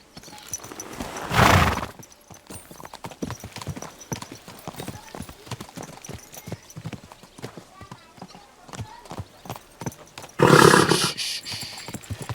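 Horses ride out in Kingdom Come: Deliverance 2, their hooves clip-clopping in a steady, close rhythm throughout, while two loud whinnies or roaring bursts break in at the start and near the end.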